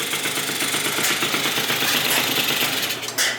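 A rebuilt Yamaha BWS 70cc two-stroke scooter engine, fitted with an aftermarket bore and a stock exhaust gasket, runs close by with a fast, rattly, buzzing idle, loud and continuous with no talking.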